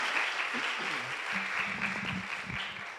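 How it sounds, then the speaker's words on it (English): A church congregation at a Sunday service applauds in a steady, dense wash of clapping for about three seconds, with voices murmuring and calling out underneath. "Let's give a big round of applause for them."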